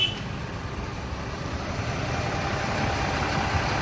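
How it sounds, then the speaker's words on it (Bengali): A 16-wheel truck creeping slowly out of a garage, a steady low engine rumble close by that stays even throughout with no talk. "পরের যে গাড়িটা আছে, সে গাড়িটাও আস্তে আস্তে বার হচ্ছে"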